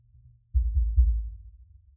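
Kick drum isolated from a full mix by a bass-side gate with a single microphone, giving a dull low thud that swells in after half a second, with a second punch near one second, then a soft murmuring tail.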